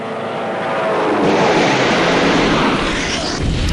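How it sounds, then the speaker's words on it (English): Bf 110 fighter aircraft attack enemy planes in Civilization II: Test of Time, heard as a loud, continuous roar of aircraft engines that swells and then holds steady. "I'm going to have these 110s attack these aircraft as best they can."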